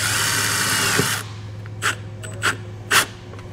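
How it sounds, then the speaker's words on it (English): A power drill drives a self-tapping screw into the sheet-metal body of a 2023 Jeep: a loud steady whir for about a second, then several short spaced bursts as the screw seats. "take the self-tapper that comes in your kit and we'll tie this ground to the body of our vehicle"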